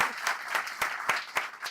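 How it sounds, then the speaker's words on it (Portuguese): Applause from an audience at a podcast recording, a few seconds of close clapping with distinct sharp claps at an uneven rhythm over a softer background patter. "Kelly, uma salva de palmas."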